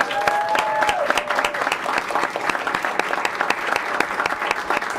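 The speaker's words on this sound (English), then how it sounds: "So let's give them a round of applause." An audience at a school district Board of Education meeting applauds honored teachers, sustained clapping with distinct sharp claps close by, and a faint tonal whistle or feedback line early on.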